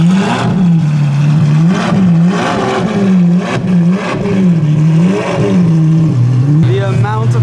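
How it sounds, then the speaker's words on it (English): An Apollo IE supercar at a busy car gathering revs its engine loudly and close by in repeated rising and falling surges, with a crowd murmuring underneath. "I can hear something loud, here it is. This is the Apollo IE, stunning."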